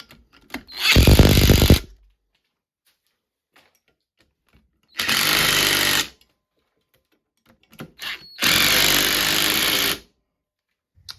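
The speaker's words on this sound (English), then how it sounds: "Now I'm just gonna go ahead and tighten all the rear idlers up." Power tool tightening the rear idler bolts on the track of a 1970 Auto-Ski 300 snowmobile, three loud close bursts of one to two seconds each with quiet pauses between them.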